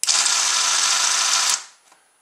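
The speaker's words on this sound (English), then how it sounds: "an oscillating toothbrush. That's the power unit." An oscillating electric toothbrush used as the power unit of a homemade toy boat, with a plastic strip hot-glued to the brush: a loud, close, steady high-pitched buzz that runs for about one and a half seconds, then stops abruptly.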